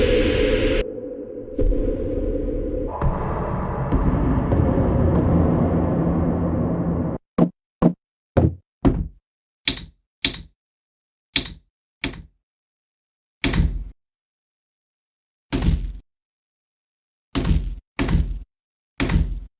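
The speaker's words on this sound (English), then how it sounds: "we could get some super nice impact effect right here" Synthesized impact effect run through erosion, white noise, compression and reverb: a dense noisy drone that cuts off, then a series of sharp separate knocking hits, some doubled, with short tails and silence between.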